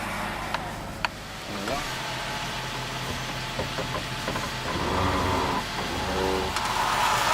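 A car engine idling during an oil change, a steady low rumble close by with some clanking and shifting noises on top, growing slightly louder toward the end.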